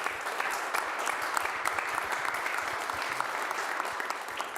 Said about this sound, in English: Should give a round of applause on this one.